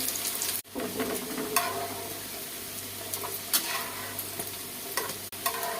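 Meatballs made with nettle sizzle and crackle in hot oil, loud and close, with occasional clinks and scrapes from turning them; nobody speaks.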